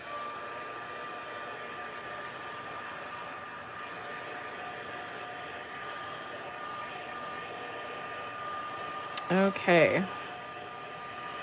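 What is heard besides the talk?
heat tool blowing to dry a craft project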